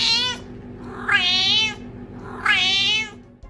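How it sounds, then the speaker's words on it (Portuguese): A cat with cerebellar hypoplasia gives three high-pitched, drawn-out meows in a row, close and clear over a faint steady hum. "ele tem um miado agudo com sotaque de Liverpool"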